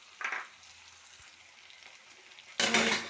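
Eggplant frying in a pan with onion, cumin, ginger-garlic paste, green chillies, curry leaves, turmeric and salt for vangi bath: a soft steady sizzle with a brief stirring scrape early and a louder burst of sizzling near the end.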